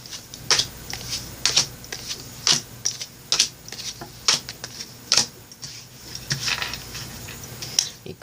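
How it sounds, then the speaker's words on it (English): Tarot cards are pulled and handled in a series of brief, crisp papery snaps and clicks at irregular intervals, close and fairly quiet, with no talking. "Let's pull the cards."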